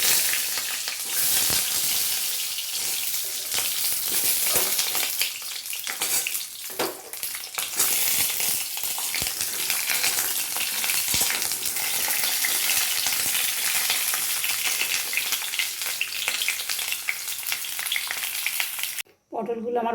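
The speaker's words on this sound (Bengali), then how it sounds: "দিয়ে একটু ভেজে নেব।" Pieces of pointed gourd (potol) fry in mustard oil over a gas flame, giving a loud, close, continuous crackling sizzle that carries on with no talk until it cuts off near the end.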